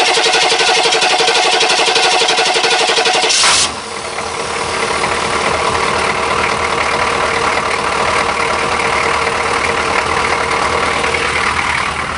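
A repaired starter on an SF sub cranks the engine over, a loud, continuous mechanical churning that shifts tone after a few seconds and then keeps spinning steadily to the end.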